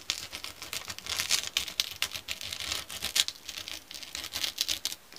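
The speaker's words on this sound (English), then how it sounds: "We're going to start on cut line one, and we're going to stop when it hits cut line two." Scissors snipping paper along a cut line in a preschool craft lesson, heard as a close, steady run of crisp, rapid cuts and light rustling with no talking.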